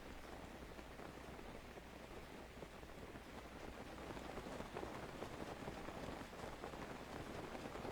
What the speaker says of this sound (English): I am not standing here with the rain.